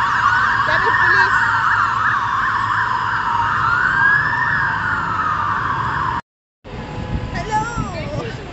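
Police sirens wail loudly and continuously near Marble Arch in London, their rising and falling tones cutting through street traffic. The sound breaks off briefly, then resumes more faintly with more traffic noise.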